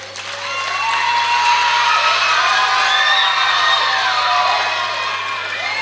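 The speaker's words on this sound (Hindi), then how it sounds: "तो उनके लिए बहुत बड़ी ताली।" Loud, sustained applause and cheering from a large school audience at an annual day celebration, hands clapping densely for several seconds with whoops and children's shouts rising over it.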